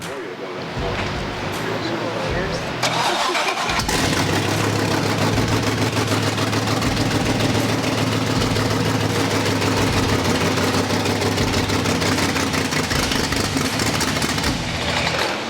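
A large V8 engine in a restomod Mustang idles with a deep, steady rumble, loud and close, running continuously after a short start.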